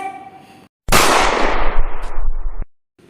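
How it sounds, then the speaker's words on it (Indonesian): Rifle fire from soldiers in a radio drama comes as one loud, close blast followed by a rattling burst lasting under two seconds, set between short pauses. "Lantangnya suara dari letupan senjata pun tentu membuat ketiga gadis itu sangat amat terkejut."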